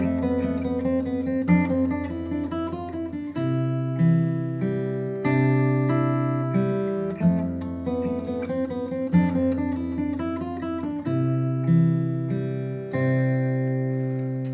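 Guitar melody played as a repeating three-note pattern over chords starting on F, clean and close with bright, sustained notes in a gentle, lullaby-like flow, heard alone.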